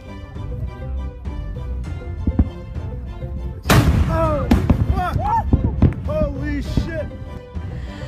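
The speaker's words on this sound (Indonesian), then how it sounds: "letusan dari Gunung Tonga ini mengakibatkan suara ledakan yang sangat keras" A sudden heavy boom of the Tonga volcanic eruption cuts in midway, followed by rumbling and scattered sharp cracks, with voices talking throughout.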